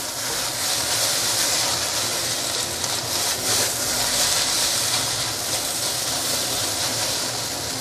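Rice noodles for char hor fun sizzling and hissing in a hot wok, a steady loud bright frying roar that holds evenly throughout with faint scraping underneath.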